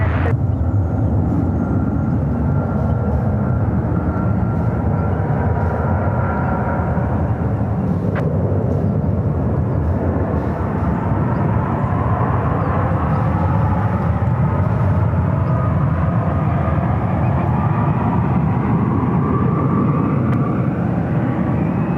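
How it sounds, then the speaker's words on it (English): A Fiji Airways Airbus A330 airliner arriving at San Francisco airport rumbles steadily and loudly throughout, a broad continuous jet roar with a slowly shifting whine. "Fiji. A330 coming up from Nandi."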